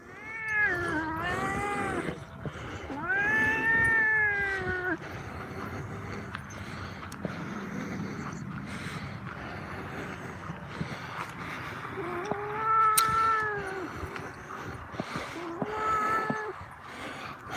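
A cat yowls and caterwauls in drawn-out, wavering cries, with a few separate bursts of loud, close howling split by quieter stretches of background noise.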